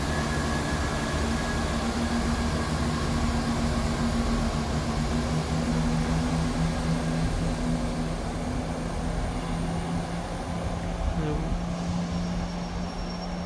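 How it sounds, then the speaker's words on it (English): Scotrail diesel train pulling out of Edinburgh Gateway station, a steady loud low engine drone with sustained tonal hum that holds throughout and shifts slightly in pitch near the end. "departing out now is the 11:28 Scotrail service from Cowdenbeath to Edinburgh Waverley"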